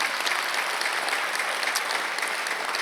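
A church congregation applauding during a Sunday worship service, with dense, even clapping from many hands that holds steady and loud for the whole stretch, and no speech over it.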